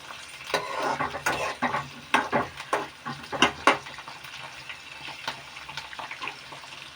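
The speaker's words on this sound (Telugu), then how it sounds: "ఇవి మంచిగా ఫ్రై అవ్వాలి, అంటే మరీ బ్రౌనిష్గా కాదు" Chillies fry in a pan with a soft crackling sizzle, broken by irregular scraping stirs, quiet and close with no talking.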